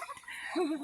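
Chickens being squirted with water from a Super Soaker give a short cluck, a single close warbling call rising out of faint background noise.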